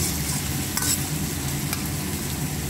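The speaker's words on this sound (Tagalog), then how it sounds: "Lutuin lang natin itong kamatis, guys, bago natin ilagay ang chicken." Tomatoes cooking in a pan for mechado, a steady sizzle with stirring and spatula clicks, close and fairly loud, with no voices.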